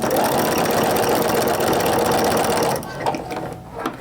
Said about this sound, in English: you can get everything under the sewing machine